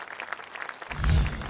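A studio audience on a children's television show breaks into scattered, lively clapping for about a second, then a deep, booming low sound swells in underneath.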